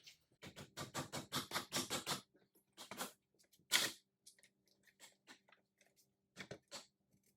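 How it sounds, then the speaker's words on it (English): Fast, sharp plastic taps knock upward on a spoiler clip of a VW GTI hatch. They come first in a quick rhythmic burst, then as scattered single knocks with gaps, close and fairly quiet. "The easiest way to get the first clip off is going to be to tap up on the back here."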